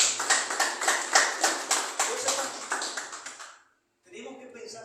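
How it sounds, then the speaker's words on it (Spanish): A church congregation claps in a steady, rhythmic beat for a few seconds during a service, then the clapping stops abruptly and a brief burst of other sounds follows. "Es un fuerte aplauso bien bonito al Señor."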